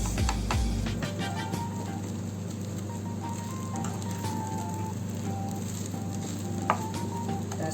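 Leftover rice being fried into java rice sizzles steadily in the pan, with a thump and stirring scrapes at the start and a brief clink later, no voices.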